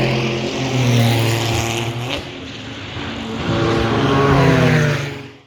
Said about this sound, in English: Followed by our GT4, also taking the curb fully.